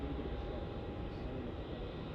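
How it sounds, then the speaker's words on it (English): Qantas Airbus A330-300 landing at Melbourne Airport after its approach from Tokyo, a loud, steady broadband roar of engines and rushing air heard up close without a break. "On final approach now, we have QF80 from Tokyo. An A330-300, wearing the newer livery. Greasing the runway."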